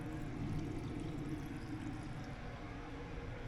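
Water runs steadily from a tap with good pressure in the en-suite bathroom of a Romanian sleeper train, a constant close hiss and rush with a low rumble beneath it and no voices.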